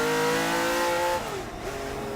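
A Ferrari 512M race car engine sings loudly and close, holding a steady high-pitched harmonic note before dropping as it shifts or lifts off, then settling at a lower tone.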